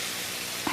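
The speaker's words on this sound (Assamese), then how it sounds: "গৰম পানীখিনি দি দিছোঁ।" Hot water hits a pan of fried sesame seeds, a constant hiss that swells into a short, sharp burst near the end.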